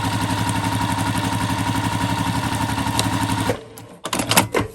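A sewing machine stitches a quilt border in a steady, loud, rapid mechanical whir for about three and a half seconds, then stops abruptly and leaves a few brief clicks and handling noises.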